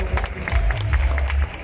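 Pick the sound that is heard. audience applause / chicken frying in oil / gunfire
audience applause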